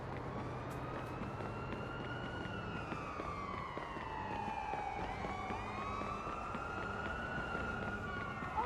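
Police siren wailing in the video game Watch Dogs 2, a continuous rising and falling tone sweeping slowly up and down, moderately distant over steady background noise.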